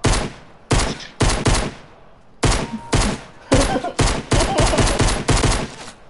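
Loud, close gunfire in Fortnite comes in repeated bursts of shots separated by short gaps, continuing steadily throughout.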